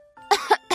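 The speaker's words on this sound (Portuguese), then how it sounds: "A flor tossiu." A short throat-clearing cough from the flower in a Portuguese audiobook of The Little Prince, two or three close, clipped bursts, heard on its own.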